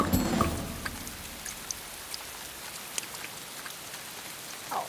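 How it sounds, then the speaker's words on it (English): Heavy rainforest downpour in a cartoon Amazon scene: dense, steady hiss of rain on surfaces with scattered louder drop taps, fairly quiet and continuous throughout, no talk. "Wow, a proper rainforest storm."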